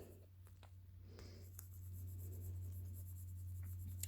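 Pencil or pen colouring on paper for a puppy bookmark craft, a soft close scratchy scribbling in short strokes over a constant low electrical hum, with no talking.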